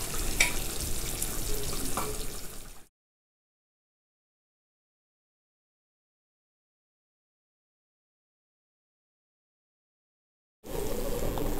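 Taro pieces turned gently in a simmering pan of curry give a soft sizzle and stirring scrape for a few seconds, then silence, then a brief return of the bubbling sizzle.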